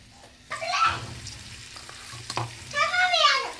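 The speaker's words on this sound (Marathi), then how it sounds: "चला आता तांदूळ टाकून घेऊया आपण सगळे. मिक्स करून घ्यायचं चांगलं आता." Rice is stirred into frying vegetable biryani masala in a pan, with bursts of scraping and sizzling stirs. High warbling tones come and go in the background.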